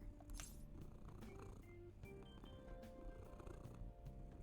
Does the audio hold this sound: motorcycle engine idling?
no